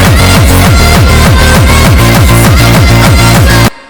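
A frenchcore remix plays in FL Studio 20, driven by loud, distorted, pitched kick drums that hit in a fast, relentless rhythm. It cuts off abruptly at the end.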